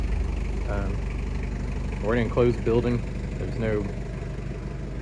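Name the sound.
Toyota Land Cruiser 1KZ-T turbo diesel engine idling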